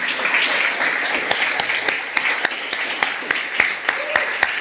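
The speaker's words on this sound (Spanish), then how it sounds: "Vamos a darles un fuerte aplauso." A church congregation applauds its older members with dense, sustained clapping and a few sharper individual claps throughout, filling a reverberant room.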